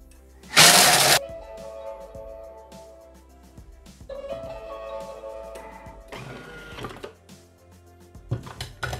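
A Thermomix kitchen machine chops at speed 7 while making a pistachio and ricotta cheesecake, opening with a loud grinding burst, then a whirring, rattling motor hum with surges of clatter.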